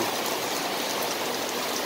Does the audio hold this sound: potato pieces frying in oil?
no